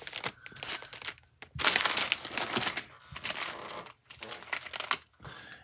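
Plastic bags from a Speed Champions F1 Mercedes AMG Petronas set crinkling and rustling in bursts with brief pauses between handlings, close and fairly loud, no talking.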